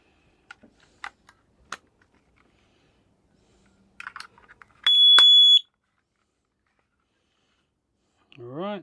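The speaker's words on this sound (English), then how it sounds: "Now we do the same thing with the carbon monoxide alarm." A carbon monoxide alarm being tested gives a single loud, shrill beep lasting under a second, preceded by tapping and button clicks as it is handled, with a short voice near the end.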